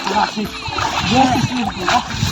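Splashing in cold water at a countryside swimming spot in summer, with short wet splashes heard close under the excited voices of people talking and shouting.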